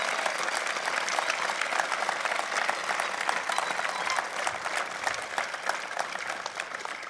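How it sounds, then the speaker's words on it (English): Steady, full applause from a university convocation audience at Trent University in Peterborough, a dense roar of many hands clapping at constant strength throughout, with no speech over it. "Could we please have a round of applause for everybody that makes this Convocation possible?"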